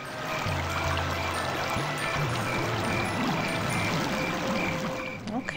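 Flowing water in the video game American McGee's Alice, a steady rushing stream heard continuously and fairly loud throughout, with low game tones beneath.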